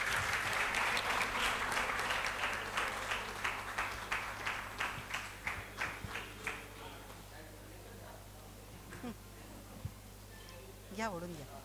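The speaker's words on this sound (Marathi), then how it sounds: "जोरात टाळ्या होऊ देत त्याच्यासाठी." An audience at a football club's award ceremony claps loudly, the clapping thinning into scattered individual claps and fading out, followed by faint background noise and a brief voice near the end.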